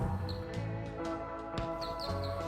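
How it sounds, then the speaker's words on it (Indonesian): Birds chirp in short, faint, scattered tweets over a grassy valley, set against a quiet, steady tonal background. "Kicauan burung-burung pun tak lepas dari pendengaran."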